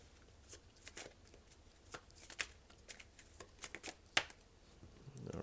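Tarot cards shuffled by hand, a run of soft riffling flutters and light taps repeating for several seconds, close and quiet, with no talk.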